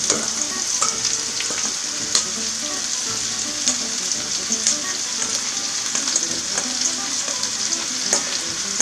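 Peppers sizzle steadily in a hot pan and are stirred, a loud continuous frying hiss broken by scraping and clinking from the utensil, with no talk.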